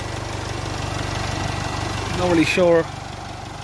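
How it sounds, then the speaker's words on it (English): Jaguar F-Pace 2.0 diesel engine with EGR and manifold air faults, idling nearby with a steady rhythmic chug while someone speaks briefly over it. "it looks like it's breathing quite heavy, this engine"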